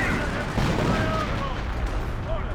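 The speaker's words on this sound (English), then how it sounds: "Got some artillery raining on in" Artillery in Company of Heroes 1 lands as dense, rumbling explosions with a continuous heavy roar that stays loud through the short stretch.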